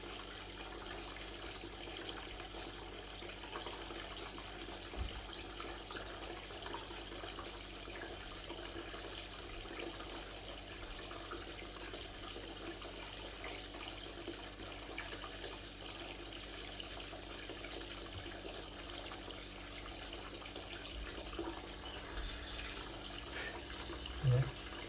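Steady running water pours continuously into a bucket at low volume, a constant rushing wash with no voices.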